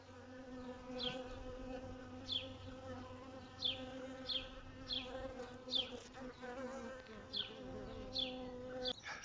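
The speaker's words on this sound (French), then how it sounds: "ce ne sont pas des abeilles noires, ce sont des abeilles jaunes, rayées de brun" A dense, steady buzz of many yellow, brown-striped honeybees swarming close by a hive, with a higher whine sweeping past every second or so as individual bees fly near.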